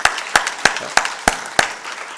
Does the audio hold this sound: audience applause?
yes